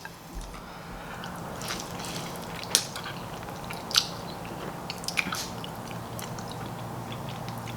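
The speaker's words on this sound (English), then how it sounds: "About to take my first bite." Close-up biting and chewing of ramdon, the ram-don noodle dish, with soft wet mastication, slurps and a few sharp crunchy bites standing out against a steady low background, no talk.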